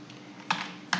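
A computer keyboard being typed on in a short burst, a couple of crisp, close key clicks with a low hum beneath and no voices.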